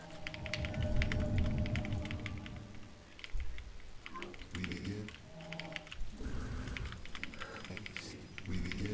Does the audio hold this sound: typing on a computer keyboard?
yes